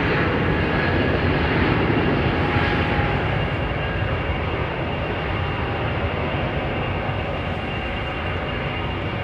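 An airliner in a Vietnam Airlines livery at London Heathrow Airport roars continuously, a loud broadband engine rush that eases slightly over several seconds.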